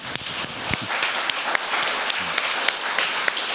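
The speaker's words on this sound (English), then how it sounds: "We should give them a big round of applause." Audience applause after a talk on universalism, a steady dense patter of clapping hands filling the room, fairly loud and sustained with no speech over it.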